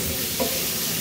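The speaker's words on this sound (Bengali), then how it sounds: "আলুগুলোকে তেলে ভেজে নিতে হবে" Potatoes frying in oil and stirred with a spatula, producing a loud, steady, broadband sizzle with one brief scrape partway through and no talk.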